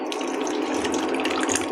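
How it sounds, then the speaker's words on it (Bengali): Water is poured into chicken curry cooking in a pot, making a steady, fairly quiet gushing splash that runs unbroken for just under two seconds. "এখানে আমি কিছুটা পানি অ্যাড করে দিচ্ছি"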